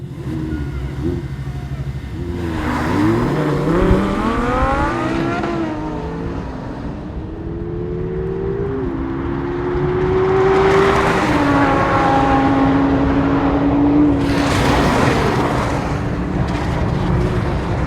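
Rear-engined four-wheel-drive Porsche 991 911 Turbo, alongside an Audi R8 V10 and Honda NSX, launching hard from a standstill: engines rise sharply through successive gear changes, loud and close, with a second surge of revving later in the run.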